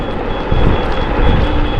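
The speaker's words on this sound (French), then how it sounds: "Il y a une sorte de petit bip sonore, peut-être pour me dire que je dépasse les 25." A continuous electronic beep tone from an Ausom DT2 Pro dual-motor electric scooter, a speed warning above 25 km/h, holds steady over a loud rumbling motor and road noise, with no voices.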